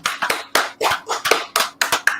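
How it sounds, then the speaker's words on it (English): A small group claps in slow, distinct bursts, about eight sharp separate strikes of hands in a loose rhythm, close and fairly loud, with no talking. "Give a round of applause for the Lord above."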